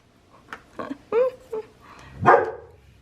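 A small pet dog named Sophie barks several times at close range, a few sharp yips building to one louder, fuller bark, with no talk over it.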